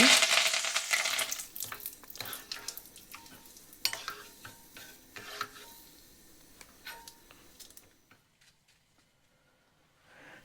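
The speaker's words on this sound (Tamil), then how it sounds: "தேவையான அளவு எண்ணெயை விட்டு எண்ணெயை சூடாக்குவோம் அதாவது கருவேப்பிலையை அப்படியே போட்டு பொரிஞ்செடுப்போம்" Curry leaves dropped whole into heated oil for a prawn sambal, crackling and sputtering with sharp pops and ticks from the start, gradually quieting until nearly silent near the end.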